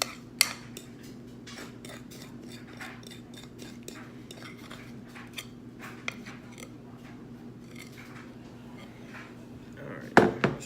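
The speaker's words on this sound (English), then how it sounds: "Use our fork to work it into a nice little smooth, even section." Fork scraping and tapping against a baking dish while smoothing a food mixture, giving light scattered clicks over a quiet hum, with a louder clatter near the end.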